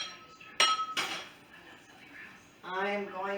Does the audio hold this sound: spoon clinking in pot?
yes